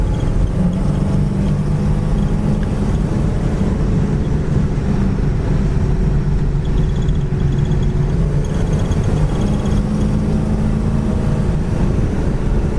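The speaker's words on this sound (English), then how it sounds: "Going down the road 60 mile an hour, just handles beautifully." A 1969 AMC AMX cruises down the road at 60 mph around 2200-2300 RPM, a steady low engine drone and road rumble heard from inside the cabin, continuous and even throughout.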